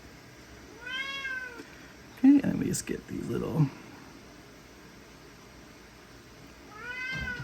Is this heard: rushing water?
no